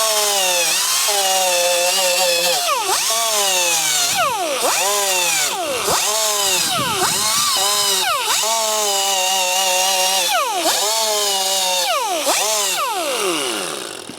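A power grinder works on a part of an old Sportster motorcycle, loud and close, its pitch repeatedly dropping and rising again as the tool bites and releases in a series of strokes.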